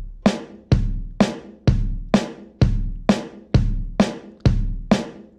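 A basic 4/4 drum beat alternates kick and snare in a steady, even pulse, about ten sharp hits over five seconds, each ringing out briefly, with no voices.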